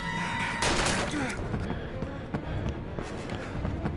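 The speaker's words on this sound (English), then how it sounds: "I like the gun effects they're using." Video game gunfire from Heavy Rain 2, a burst of sharp shots with shotgun-like blasts scattered over about four seconds, mixed with game effects and someone talking.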